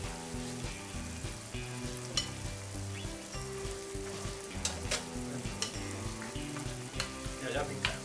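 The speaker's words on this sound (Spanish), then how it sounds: "ya que lleva aquí buen rato el tomate friéndose" Tomato for pisto manchego fries in a pan with a continuous sizzle and occasional scraping stirs, over steady background music.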